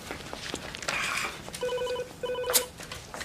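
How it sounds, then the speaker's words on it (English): A mobile phone rings with a repeating electronic tone in two bursts at close range, over quiet room noise in an indoor scene. "is that your phone or is that mine?"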